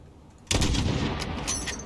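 A loud rifle shot in the Call of Duty Modern Warfare video game, fired at a target 600 meters away, bursting in sharply and followed by ringing echo and further blasts.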